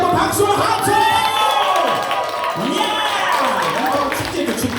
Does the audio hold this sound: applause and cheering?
yes